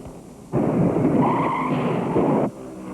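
Stock car tires screech and skid for about two seconds over a roaring engine at the 1978 NASCAR Southern 500 at Darlington Raceway, loud and close, then fade back to background noise.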